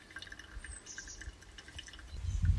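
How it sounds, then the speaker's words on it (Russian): Hot water is added little by little over ground Indonesian Frinsa Eden specialty coffee during a brewing taste test. Faint dripping and trickling follow, then a louder low gurgle at the end, with no talking. "И по чуть-чуть я добавляю водички."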